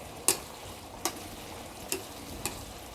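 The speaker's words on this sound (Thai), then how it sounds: "รวนให้น้ำแห้งก่อนค่ะ ให้กระดูกหมูอ่อนเนี่ย สุกด้วย" Chopped soft pork ribs stir-fried in a pan for spicy holy basil pork, with a steady low sizzle broken by four sharp scraping clinks of the spatula, evenly spaced and close by, no voices.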